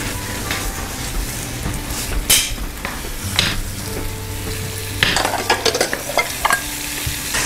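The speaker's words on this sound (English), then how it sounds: "Why don't you flip the chops?" Chops sizzle steadily in a hot pan, loud and close, with scattered scrapes and clatter as they are moved and flipped, and no talking.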